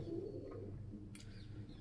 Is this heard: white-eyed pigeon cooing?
yes